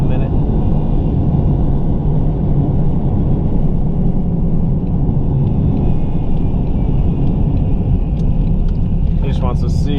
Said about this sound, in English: stop the car somewhere and let it idle for about a minute